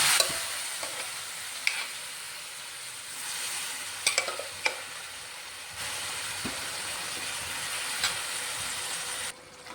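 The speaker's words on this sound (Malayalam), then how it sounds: "ഇനി ഇത് നമുക്ക് നന്നായിട്ടൊന്ന് ഇളക്കിയെടുക്കണം" Steady sizzling of beef frying in a pan, with occasional clinks and scrapes of stirring; constant hiss, no speech.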